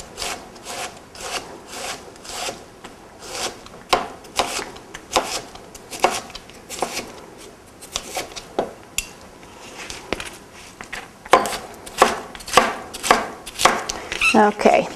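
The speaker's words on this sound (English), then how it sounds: "I'm just going to cut these into little thin slices and then kind of dice that up." Knife chopping jicama on a cutting board for a kale salad, with a series of sharp, closely spaced cuts in uneven rhythm that speed up into quick repeated dicing toward the end, close and clear with no talking.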